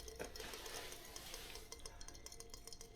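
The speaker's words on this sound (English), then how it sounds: "you can hear the water boiling" Steady bubbling and rolling of water boiling in a pot fills the clip, a dense hiss with small clicks and pops, close up and continuous throughout.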